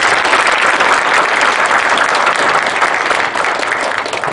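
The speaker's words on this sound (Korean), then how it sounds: "오늘 맹강을 해주신 교수님께 다시 한번 뜨거운 박수 부탁드립니다" Loud, dense applause from an audience thanking a professor after a humanities lecture, a continuous wash of many hands clapping evenly throughout with no voices on top.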